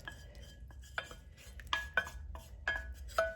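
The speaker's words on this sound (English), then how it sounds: "And now we're going to put in the butter and chocolate" Heated butter and chocolate are worked into a buttermilk brownie mixture, with a spoon clinking and scraping against a bowl in several sharp, bright taps over quiet stirring.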